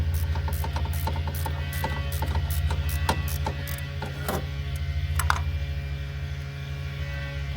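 A hand ratchet clicks in rapid bursts while cranking the belt tensioner on a 2001–2004 Kia Hyundai 1.6L engine, sharp close ticks over a steady low mechanical hum, then a pause and a final few clicks.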